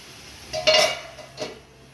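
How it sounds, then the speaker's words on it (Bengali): A metal lid set down on a cooking pot of fish curry, a single close clinking clatter with a ringing tone, then a softer second knock as it settles. "এবার আমি ঢাকা দিয়ে দেবো।"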